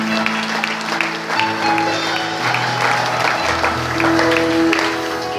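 Congregation applauding during a French-language church service, a steady wash of handclaps filling the room for several seconds, with sustained organ or keyboard tones underneath and no speech.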